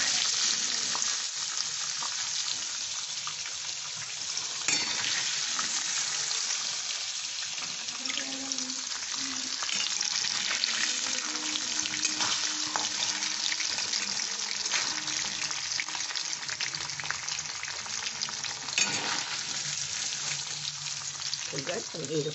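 Paneer fries and is stirred in a pan, giving a continuous close sizzle with scraping stir strokes and a brief watery splash partway through.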